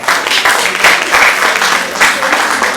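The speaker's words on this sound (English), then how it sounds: "Thank you for that clap." Loud applause from an audience at a corporate sharing event, dense clapping that swells in waves and stays close and full for the whole stretch.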